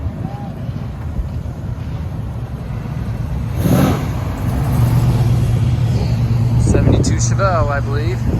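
A Chevrolet Chevelle at a car show in St. Ignace revs its engine amid steady wind and crowd murmur, with a brief rising and falling rev near the end.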